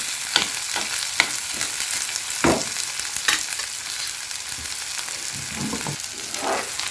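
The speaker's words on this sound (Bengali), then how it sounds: "এটাকে আমি একটু ভালো করে নেড়ে নেব কিছু সময় একটু ভেজে নেব আমি এই পেঁয়াজটাকে" Onions frying in a pan for chicken posto, a steady close hiss of oil broken by several sharp scraping strokes of a spatula stirring them at irregular intervals.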